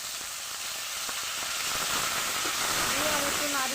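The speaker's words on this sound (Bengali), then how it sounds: "আমার তেজপাতা শুকনো লঙ্কা ভাজা হয়ে গেছে" Bay leaves, dried red chilies and cumin with radhuni seeds fry in hot oil in a kadai, a steady loud sizzle and crackle throughout with faint stirring clinks.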